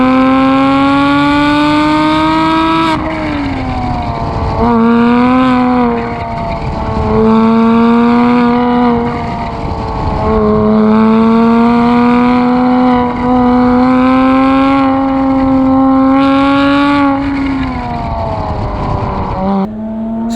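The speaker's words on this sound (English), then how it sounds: "This in my street MX-5 after I put on race headers" Mazda MX-5 street car fitted with race headers, its exhaust loud and close, the engine note climbing and dropping through several rev sweeps with a raspy, buzzing edge, and no voices.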